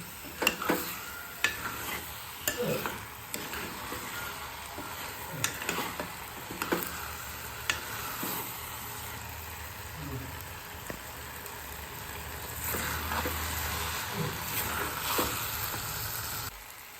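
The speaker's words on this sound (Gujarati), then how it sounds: "ચોખાને છે ને આપણે આ તેલમાં સંતળાવા દઈશું" Rice sautéing in hot oil for vegetable pulao, a continuous sizzle broken by repeated scraping and clicking of a spoon against the pot, stirring at an uneven rhythm close by.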